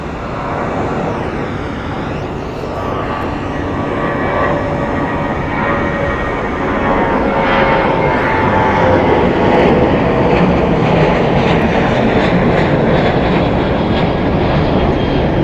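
Aircraft engines roar steadily at Phoenix Sky Harbor International Airport on the south side, a loud continuous jet-like rush that swells slightly midway and holds for the whole stretch, with no voices.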